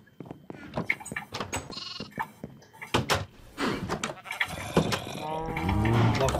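Sheep and lambs in an animal pen in Minecraft bleat several times, mixed with door clatters and other game sounds, rising toward the end at moderate loudness.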